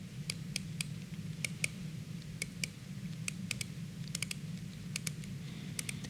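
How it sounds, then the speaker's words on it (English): A Jaeger-LeCoultre Polaris Mariner dive watch bezel being turned, giving a series of crisp, irregularly spaced metallic clicks, close and distinct over a steady low background hum, with no talking. "listen to the sound of the clicking you have when you are turning the bezel"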